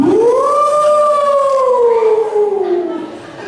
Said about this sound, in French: Donc on fait la sirène.